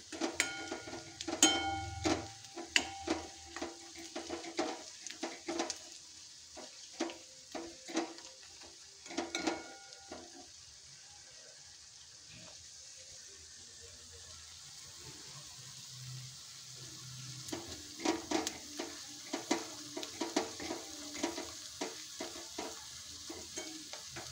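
A spoon stirs ginger garlic paste sizzling in a pan on low heat for dal khichdi, with repeated close scraping and clinking strokes over soft frying hiss and a quieter pause midway.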